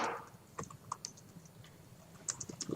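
Code typed on a computer keyboard: quick, irregular keystrokes in short bursts, close and clear over a faint room hum, with no talking.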